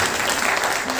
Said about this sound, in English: round of applause for all 6 of them